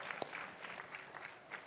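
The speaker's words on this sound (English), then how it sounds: "everyone give him a round of applause" A faint audience gives a brief round of applause for a man in the crowd at a StarCraft 2 event, the clapping thin and distant.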